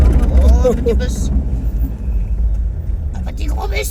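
A small bus passes on a mountain road in Tenerife, a heavy low engine rumble swelling near and then fading, with a voice speaking over the start.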